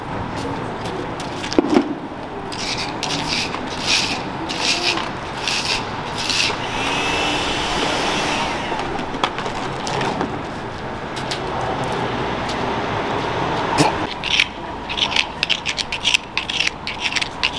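Dirt is scraped out of pavement cracks on a London street while hunting for gold, making close, irregular rasping and scratching strokes against a low background of street noise.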